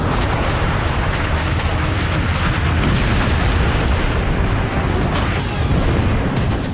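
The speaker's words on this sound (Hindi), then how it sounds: "मिसाइलें बरस रही हैं" Missile strikes, bombs and shells in a West Asia war between Iran and Israel: a dense, continuous roar of rumbling blasts and booms with sharp bursts layered throughout, loud and sustained with no pauses.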